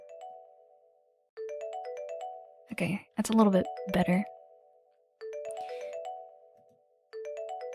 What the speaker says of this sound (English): The familiar ring of your phone breaks the quiet.